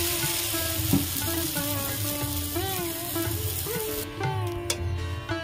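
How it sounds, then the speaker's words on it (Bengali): Cauliflower paratha shallow-frying in a generous amount of oil, a steady close sizzle and crackle throughout with faint kitchen clatter and a few tonal squeaks over it. "আমি একটু বেশি করে তেল দিয়ে ভাজছি"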